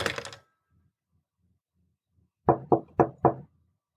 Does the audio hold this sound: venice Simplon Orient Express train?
no